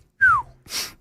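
A single human sneeze: a sharp rising intake of breath followed by a forceful, breathy burst, close and alone with no talk.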